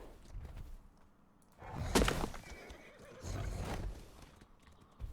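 A horse neighs in the survival game Atlas, one loud whinny in the middle with hoof clops and rustling movement around it, near and without talk.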